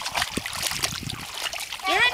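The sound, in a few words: feet stamping and splashing in muddy water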